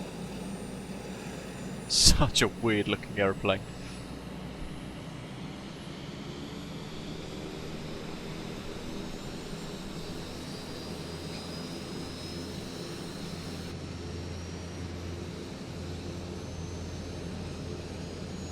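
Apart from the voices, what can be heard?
FlightFX P180 turboprop engines starting in Microsoft Flight Simulator video game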